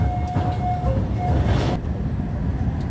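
A small tourist train at a zoo rumbles steadily along nearby, with a low continuous rolling noise and faint squeals on top.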